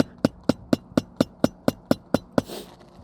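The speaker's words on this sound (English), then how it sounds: "as you're driving in these nails" Hammer driving nails into a roof with ten sharp, evenly spaced ringing blows about a quarter second apart, close and loud, then a brief scraping rustle at the end.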